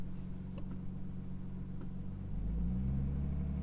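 A Nissan Skyline R33 engine idles at a steady low rumble, then its tone lifts slightly and holds as revs settle around 1,500 RPM, heard close and alone.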